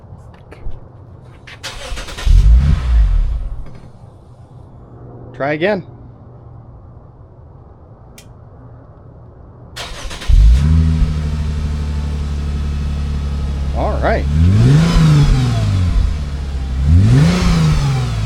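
A V6 car fitted with a new $100 exhaust revs hard in a few rising-and-falling bursts, a deep throaty roar up close after a quieter idle stretch, while people talk briefly between the revs.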